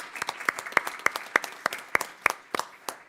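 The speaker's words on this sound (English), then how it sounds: "So we should give them definitely a round of applause." A few people at a school board meeting clap for schools, a sparse, rhythmic run of roughly a dozen distinct, sharp claps at an even pace in a quiet room.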